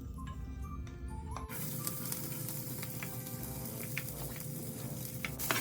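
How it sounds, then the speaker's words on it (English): Chopped garlic and ginger sizzling in a pan for Hainanese chicken rice: a steady, dense frying hiss that jumps louder after a sharp onset and continues evenly, with faint ticks and clinks, no talking. "Now we're gonna add the chopped garlic and ginger."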